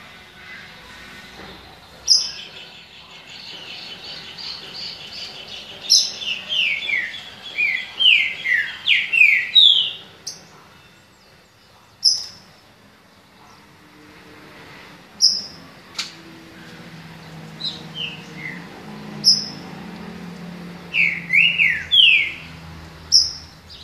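Trinca-ferro (green-winged saltator) singing in a contest, bright clear whistled phrases in repeated bursts with short gaps, close and loud over faint background noise.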